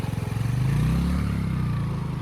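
A Pulsar motorcycle engine runs steadily through deep floodwater, a loud, close, continuous drone with a rising then settling pitch over about two seconds.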